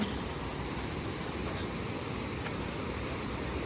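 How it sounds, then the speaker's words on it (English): A river runs nearby through the snowy Great Smoky Mountains, giving a steady, broad rushing wash of flowing water that holds even and fairly loud throughout with no other sounds. "This one is closer to the river. You can really hear it."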